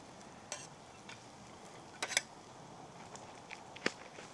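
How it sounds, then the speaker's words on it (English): Mushrooms frying in a non-stick pan outdoors in a hazel woodland, a faint steady sizzle broken by scattered sharp scrapes and clicks of stirring. "So we'll get these mushrooms fried off now."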